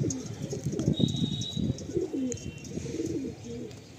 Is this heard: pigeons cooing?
yes